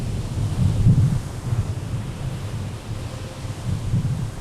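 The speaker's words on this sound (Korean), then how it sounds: "거친 파도는 단단한 콘크리트 구조물까지 무너뜨릴 정도로 위협적이다." Rough ocean surf crashes against a shoreline with concrete structures, a loud, continuous low rumble of breaking waves with swelling surges, mixed with gusting wind buffeting the microphone.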